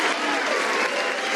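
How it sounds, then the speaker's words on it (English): A studio audience at a 1978 television game show applauds in a dense, continuous wash of clapping that holds steady and fairly loud throughout. "They're applauding your lousy poems, Gene."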